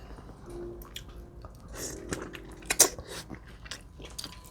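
Close-up chewing of Caribbean oxtail stew during a mukbang: soft wet chews and squishes with a few sharper crunchy bites, quiet and intimate, with no talking.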